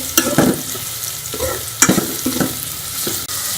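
A steady sizzle of onions and garlic paste frying in a pan for chana dal, with intermittent scraping strokes as a spoon stirs the mixture, close up.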